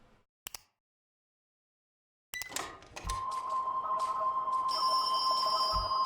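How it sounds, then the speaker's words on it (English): A telephone rings in a horror video game, the ringing starting after a stretch of silence and continuing steadily as a sustained tone over a low eerie ambience. "The sound of the ringing phone."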